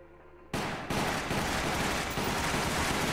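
Loud, continuous gunfire in Resident Evil: The Umbrella Chronicles, pistol shots bursting in abruptly after a quiet moment and then hammering on densely and evenly to the end, with no voices.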